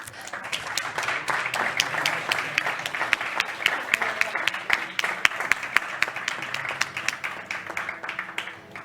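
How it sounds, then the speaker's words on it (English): Sustained audience applause at a Huawei Digital Talent Summit, dense steady clapping from a large crowd filling the whole stretch at even loudness with no speech on top. "Again, a big applause to all of them."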